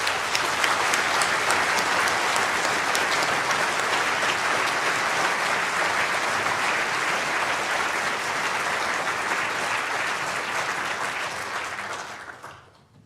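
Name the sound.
graduation audience applause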